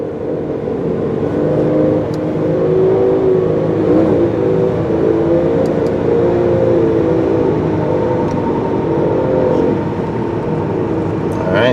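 A 2005 Ford Freestyle SEL wagon cruising down the highway with a faulty noise, a loud, steady drone of engine, road and wind roar that holds continuously, with faint ticks over it.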